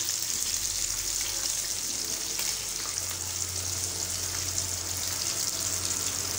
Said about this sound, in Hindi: इधर से भी दो से डेढ़ मिनट लगेंगे इनको फ्राई करते हुए।